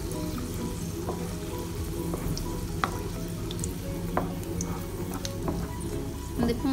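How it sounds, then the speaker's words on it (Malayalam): Raisins and cashews fry in hot ghee in a pan, giving a steady, close sizzle with faint bubbling and occasional soft pops and stirring clinks. "മുന്തിരിയും അണ്ടിപ്പരിപ്പും നന്നായി ഫ്രൈ ആയി"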